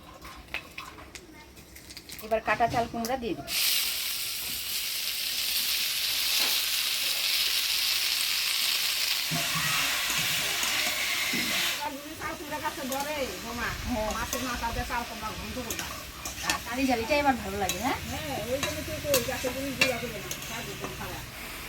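Dried red chili and black cumin hit hot oil with a sudden loud hiss, and ash gourd then fries and is stirred. Someone talks over the quieter sizzling later on.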